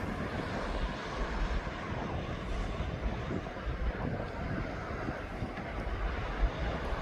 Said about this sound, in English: As this Gran Canaria flight is now just turning out to go north out over Derby.